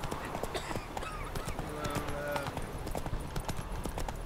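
Roach, a horse in The Witcher 3, gallops with a moderate clip-clop of hooves, partly masked by a steady background bed and muffled game voices.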